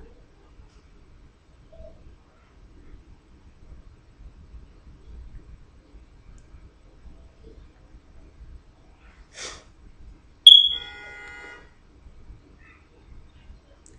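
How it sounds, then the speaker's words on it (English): A car horn gives one short beep in the distance, followed by a faint tonal trail, amid an otherwise quiet, near-silent room. "Someone's beeping the horn at somebody."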